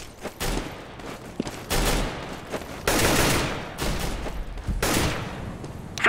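Decoy grenade in Counter-Strike mimicking gunfire: loud bursts of crackling shots in several separate volleys with short pauses, set against steady game ambience.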